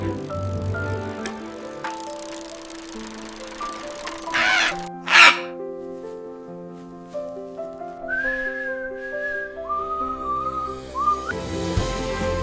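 A pet parrot whistles and calls in a run of sharp, varied whistles and squawks, with one loud burst near the middle and rising whistled notes later, fairly close, under no talk.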